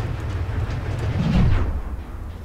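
A train shunts back and forth in the Train Simulator 2016 game, a steady low rolling rumble that swells briefly in the middle before easing off, with no talking.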